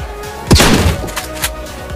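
A weapon reloads in the video game Animosity: a heavy thud followed by a few sharp mechanical clacks and clicks, loud and close, with no talking.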